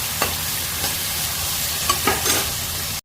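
Potatoes fry in oil left over from frying fish, giving a loud, continuous sizzle with a few sharp scraping clicks as a utensil stirs the pan.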